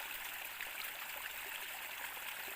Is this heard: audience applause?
no